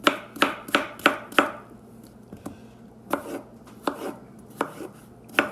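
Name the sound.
knife slicing food on a cutting board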